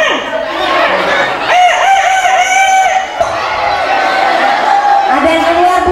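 A woman mimics a rooster crowing with drawn-out, wavering cock-a-doodle-doo calls, loud and close, during a storytelling training session for kindergarten teachers, with a group of people murmuring underneath.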